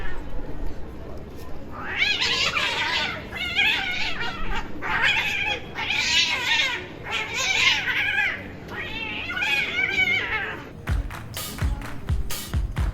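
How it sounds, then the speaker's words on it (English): Cats fighting in the old town of Kotor, Montenegro: a series of loud, close yowls and caterwauling howls in repeated drawn-out bursts, followed by a few sharp knocks and taps. "And of course, with that, you're going to get a few cat fights."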